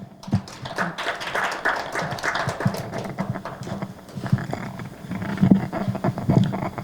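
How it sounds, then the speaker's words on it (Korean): Sparse, irregular clapping from a seated audience at a public policy forum on regulating public-interest foundations, individual claps picking out a loose rhythm for several seconds with no speech over it. "박수 부탁드립니다"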